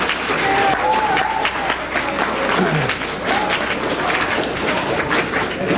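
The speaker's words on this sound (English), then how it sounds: "I think you should give your parents and grandparents an applause for getting you here" Audience applause at a space academy event, a dense, continuous patter of many hands clapping with voices audible underneath, steady and fairly loud throughout.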